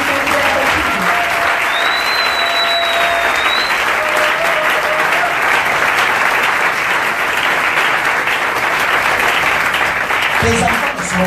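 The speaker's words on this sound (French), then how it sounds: "Est-ce que tu peux acclamer pour Jésus?" A crusade crowd in Ekoumdoum cheering for Jesus, loud sustained applause and shouting filling the whole stretch, with a faint voice and a brief whistle-like tone riding over the clapping.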